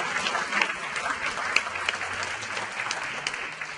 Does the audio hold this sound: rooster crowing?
no